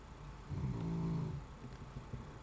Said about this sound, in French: On s'entendait ronfler, hein,